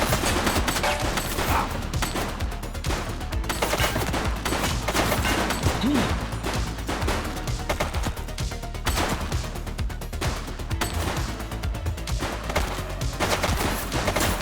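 Rapid gunfire in a video game cutscene with police officers, dense bursts of shots and automatic fire that run almost nonstop, loud and close, with a few faint shouted voices mixed in.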